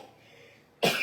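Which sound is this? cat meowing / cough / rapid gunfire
cough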